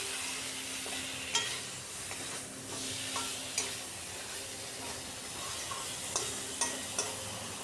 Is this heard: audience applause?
no